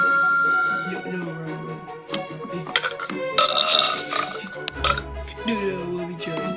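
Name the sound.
burping sound played from a toy sound machine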